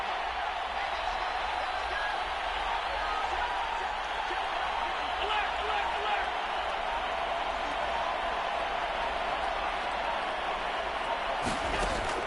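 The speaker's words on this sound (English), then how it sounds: "The crowd getting into it as we come up on a big 3rd down." Stadium crowd at a Super Bowl football game against the Raiders, a steady broad roar sustained throughout ahead of a big third down, loud and continuous with no distinct peaks.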